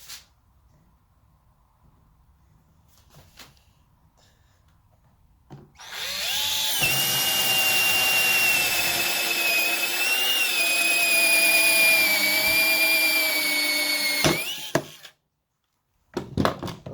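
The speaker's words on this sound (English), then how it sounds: "I'm going to center it, and I'm going to drill right there." Power drill boring a hole for a USB charging port through interior trim of a Lexus GX460, a loud steady high-pitched whine lasting about eight seconds after a few soft handling clicks, then stopping abruptly.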